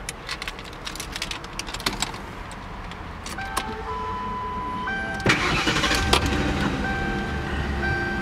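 A 2008 Ford Crown Victoria Police Interceptor engine cranks and catches, preceded by several clicks and a chime, then settles into a steady idle with warning tones beeping in the cabin; close and fairly loud.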